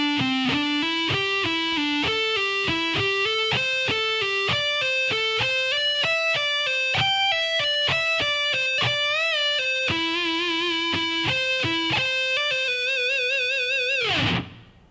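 A distorted electric guitar plays a solo lick slowly and clearly, with a steady stream of sustained single notes, hammer-ons, pull-offs and slides, stopping abruptly at the end.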